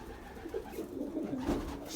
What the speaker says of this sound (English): There's 36 pigeons in here, cocks and hens, and they've all picked their boxes,